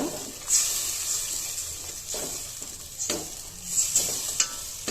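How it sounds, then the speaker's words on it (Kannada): Gram flour paste frying in hot tempering oil with a soft crackling sizzle, broken by a few scraping stirs of a spoon against the pan, while cooking potato sagu. "ಇದನ್ನು ಒಗ್ಗರಣೆಗೆ ಹಾಕಿ ಚೆನ್ನಾಗಿ ಬೇಯಿಸ್ಕೋಬೇಕು"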